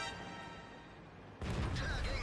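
A World of Tanks battle in a Bat.-Châtillon 25 t, where a sudden loud tank cannon blast cuts through a steady engine drone and leaves a broad, rumbling burst.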